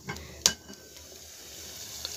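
A pot of water at the boil gives a faint, steady hiss and bubbling with a few small pops, soft and close.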